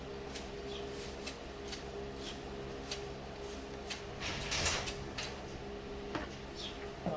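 Quiet irregular scraping and rubbing as a horse scratches itself against a wooden door, with a few creaks and knocks, growing briefly louder near the middle.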